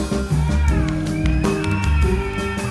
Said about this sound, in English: Oh, what a crowd.